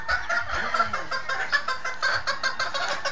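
A Sweater gamefowl rooster clucks repeatedly in quick, close bursts, with a busy farmyard behind it.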